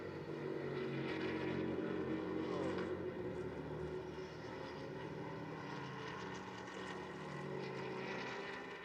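Porsche GT race cars in an endurance race at Paul Ricard, two of them battling for position, produce a sustained, droning engine note with a steady harmonic whine that rises and shifts slightly, fairly distant and heard without talk.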